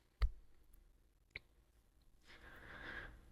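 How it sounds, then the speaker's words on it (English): A laptop lid shuts once with a soft click, followed shortly by a second, lighter tick, then a faint rising hiss as the room settles; quiet and close, no talking. "So now let's close our laptop."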